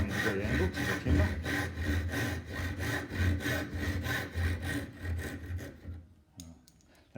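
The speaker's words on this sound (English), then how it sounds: "make sure you're cutting at a 90-degree angle to the timber" A hand saw cuts through timber for a dovetail joint in quick, steady back-and-forth rasping strokes, close and clear, before the piece falls away near the end and the sound stops.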